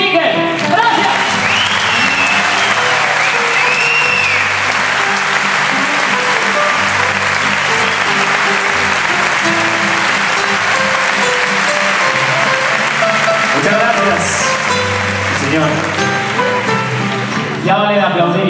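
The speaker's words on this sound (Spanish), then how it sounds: "Ya vale de aplaudir y vamos a cantar" Concert audience in a large hall applauding at a Mexican music evening, loud dense clapping sustained throughout, with a faint whistle or cheer rising near the middle and end.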